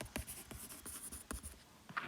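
A pen writes on paper in short, quiet scratching strokes, several quick marks in a steady rhythm, close and alone with no talk.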